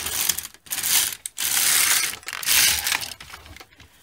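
A knitting machine carriage is pushed across a row of a midgauge Fair Isle yoke cardigan, giving a bright clattering, ratcheting rush in several close, loud sweeps with brief gaps between them.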